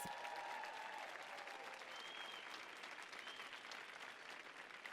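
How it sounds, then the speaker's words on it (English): An audience bursts into applause for chef José Andrés, a brief raised voice or whoop over it at the start, then dense clapping that continues evenly at a modest, somewhat distant level. "Can we give him a round of applause?"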